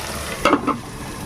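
Masala with ginger paste and tomatoes frying in a pan: a quiet sizzle with a couple of brief stirring scrapes close by.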